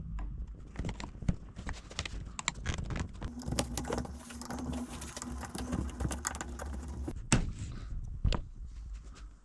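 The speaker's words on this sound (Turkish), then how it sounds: "Bu kapakları, tapaları çıkaracağız şöyle bir düz tornavida yardımıyla" A flat screwdriver prying the plugs off the screws of a Stihl MS 250 chainsaw being repaired, heard as a rapid series of close, sharp clicks and scrapes with a brief metallic whine midway, no talk.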